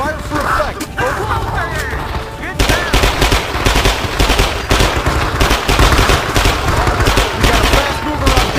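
Gunfire from the Vietnam-era video game Men of Valor, with sustained rapid bursts of automatic fire that grow dense and loud after a quieter opening, mixed with shouting voices.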